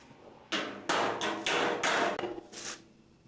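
Rusted, wrecked 1957 Chevy fender sheet metal being hammered into shape, six loud, close metallic blows in an uneven rhythm, each ringing briefly before the next.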